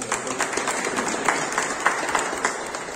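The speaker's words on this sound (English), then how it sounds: "Can we have a huge round of applause for all of them?" Applause breaks out for guests at a meeting, a steady crowd of many hands clapping at close range with scattered louder claps, with no talk over it.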